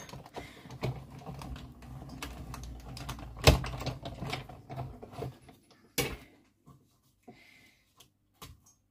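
A Sizzix Big Shot die-cutting machine is cranked by hand, giving a run of soft, irregular clicks and ratcheting knocks up close, with one sharper clunk midway and a few faint taps as it slows.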